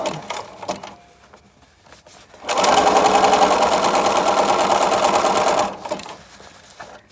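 A sewing machine stitches fabric for a face mask in one loud, rapid, even run of about three seconds, with softer handling noises before and after.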